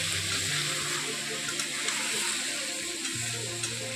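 Marinated chicken fries in hot oil with browned chopped onions, a steady close sizzle with occasional stirring scrapes and no talking.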